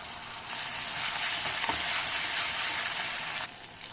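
Onion, tomato and spices fry in a pan with a bright, steady sizzle that starts abruptly and cuts off near the end, with faint stirring scrapes.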